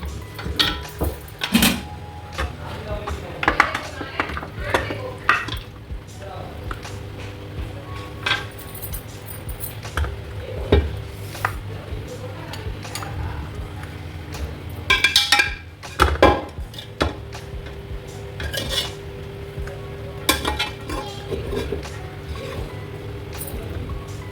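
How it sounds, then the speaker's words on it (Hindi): Cooked mutton paya ladled from a cooking pot into a serving dish, with repeated metal ladle scrapes, clinks and clatter against the pot and dish, close and irregular, over a low background hum. "अब हम इसको सर्विंग डिश में डाल देंगे"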